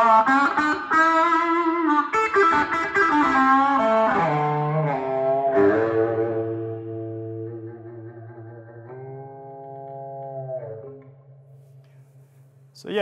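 Distorted electric guitar with two humbuckers wired out of phase, giving a thin, nasal tone; a busy run of phrases settles into long sustained bent notes that hang and fade, with no talking.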